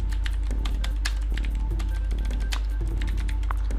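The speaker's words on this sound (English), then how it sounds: "Type your text over here" Fingers type steadily on a computer keyboard, producing quick, close clicking keystrokes in an irregular rhythm over a constant low electrical hum.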